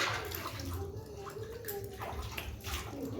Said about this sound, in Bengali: এবার হাত পাটা ধুয়ে নেবো